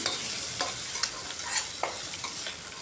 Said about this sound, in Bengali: খুব সুন্দরভাবে ভাজা হয়ে গেছে মাছগুলো